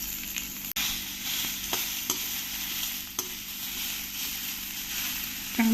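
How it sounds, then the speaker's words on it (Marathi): Onion sautéing in a pan for Nagpuri tarri pohe, a steady close sizzle and fry with occasional stirring clicks and scrapes, no talking. "कांदा परतून घेऊया."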